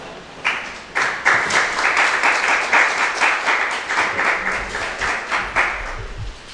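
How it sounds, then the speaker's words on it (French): A small audience of teachers at a positive-discipline session claps in unison with a steady rhythmic beat, each clap distinct and close, continuing for several seconds before stopping. "Ok, merci d'avoir applaudi."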